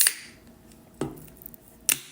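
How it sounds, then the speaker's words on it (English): Pulling open a can of Lipton Tea Fusion makes three sharp metallic clicks and snaps, spaced about a second apart, with quiet pauses between them and no talking. "I'm going to open up the can."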